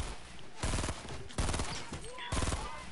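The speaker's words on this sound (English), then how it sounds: "Somebody's shooting at me." Bursts of gunfire in a video game, several loud volleys of rapid shots spaced across a few seconds over a busy game background.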